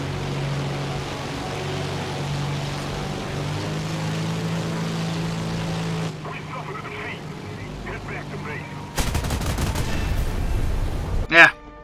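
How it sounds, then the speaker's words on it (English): Gunfire in the vehicle combat video game War Thunder, with a burst of loud shots near the end after a stretch of droning engine noise. "Someone shooting me."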